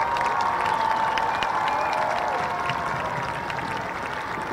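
A crowd applauds graduating seniors at a high school football game between the Rouse Raiders and the Georgetown Eagles, a broad distant wash of clapping and cheering with a steady tonal hum beneath, fading slightly toward the end.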